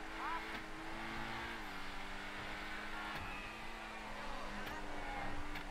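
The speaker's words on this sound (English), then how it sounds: "the sound from this car. It's a powerful engine. You can tell it's a really big engine." A Lamborghini-style Infernus Classic sports car in GTA Online, its big powerful engine humming in a steady, tonal drone that shifts pitch slightly as it revs, heard close and continuous with someone talking over it.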